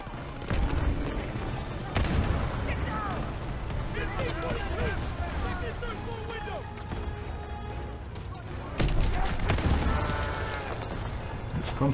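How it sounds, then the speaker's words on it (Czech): Gunfire from the World War II shooter game Call of Duty: WWII, with scattered distant shots and battlefield noise rumbling beneath someone talking throughout, with sharper bursts near the start and toward the end. "Něco tam střílí, tyhle, mi se to nezdá."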